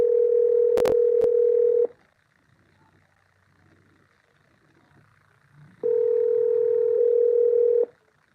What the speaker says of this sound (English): All right, we are calling.